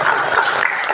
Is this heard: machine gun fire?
no